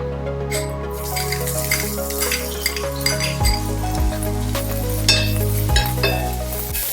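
Dry red chillies and onion dropped into hot oil in a frying pan, a steady sizzle with light metallic clinks and stirring.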